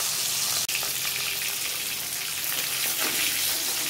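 Fish frying in a pan, four fillets in hot oil, giving a steady, dense sizzle and crackle that runs throughout with no talk, broken by one brief sharp click near the start.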